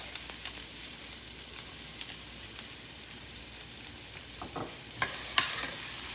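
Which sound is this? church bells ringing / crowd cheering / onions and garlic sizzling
onions and garlic sizzling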